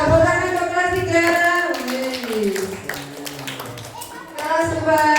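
Primary-school children in class 3 clapping, light hand claps bursting briefly among lively children's voices and an adult talking nearby.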